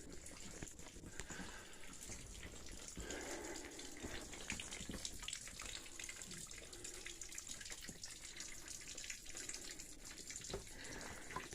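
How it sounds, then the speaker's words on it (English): Water runs steadily inside an old Civil War era coal mine, a faint continuous trickle and splash with no voices. "Here's some water running."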